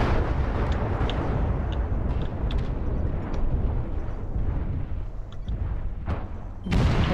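Missile explosions in the mech combat video game MechWarrior Online: a loud, continuous rumbling roar of blasts with scattered sharp pops and booms, ending in a bright burst.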